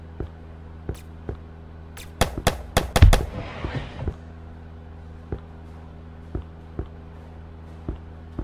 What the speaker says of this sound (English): Use left click to shoot or attack them.